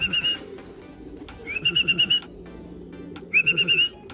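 Pigeons call in short repeated bursts, soft throaty cooing mixed with bright whistling notes in three clear phrases, close and distinct over a quiet background.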